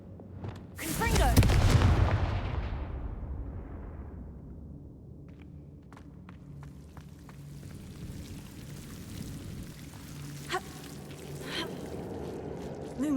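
A Confringo blasting curse is cast in Hogwarts Legacy, a loud whooshing burst and explosion that booms and then fades over a few seconds, followed by quieter crackles and game ambience.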